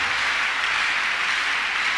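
A congregation claps steadily at a Thursday counselling and deliverance church service, a dense, continuous wash of many hands at a fairly loud, even level with no pauses.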